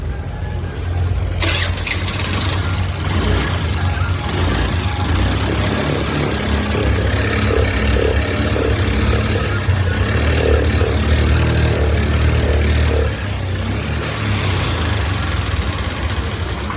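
A Honda Activa scooter, overdue for servicing with a clogged filter and a broken part, starts and idles with a steady low engine drone that runs close and continuous for about twelve seconds before easing off.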